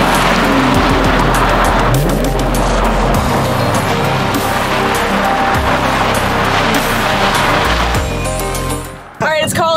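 A Hyundai IONIQ 5N electric car drifting on the Laguna Seca track, loud sustained tire squeal and skidding close by, fading away near the end, with no motor roar.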